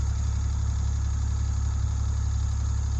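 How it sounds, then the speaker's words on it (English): A Yanmar tractor engine idles steadily and loudly up close, a constant low rumble with an even mechanical drone and no changes in pace, the tractor used for bush hogging kudzu-covered ground. "I've got it to where I can get under there with a tractor."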